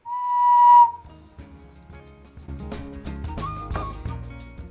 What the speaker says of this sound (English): This is my little bird ocarina.